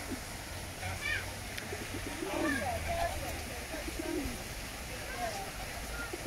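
Pigeons cooing during courtship on a branch in Jephson Gardens, Royal Leamington Spa, a male puffed up and displaying; soft repeated low coos come and go over steady outdoor park background noise.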